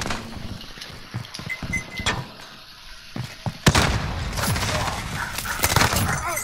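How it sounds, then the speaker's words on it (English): Video game gunfire cracks out in sharp, scattered shots, some close and loud, in irregular bursts that thicken into rapid clatter toward the end, over game ambience with no speech. "Why is he shooting me?"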